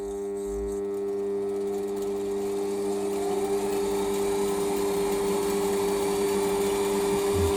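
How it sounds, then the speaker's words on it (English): A Warco WM180 metal lathe runs in reverse with a steady, unbroken motor whine and hum that holds constant throughout. "Get the lathe running backwards."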